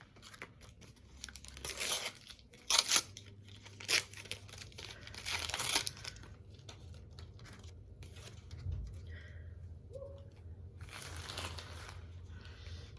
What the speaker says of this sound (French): nous allons ouvrir 2 paquets